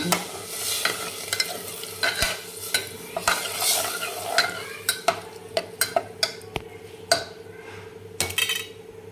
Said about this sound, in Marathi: छान ढवळून